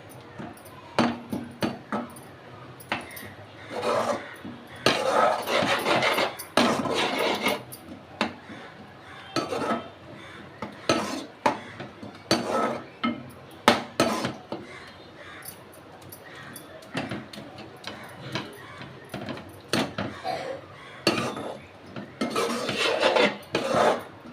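Okra masala curry being stirred in a pan over a medium flame, repeated scraping and clinking strokes of a spoon against the metal in irregular bursts, fairly close, with no talking.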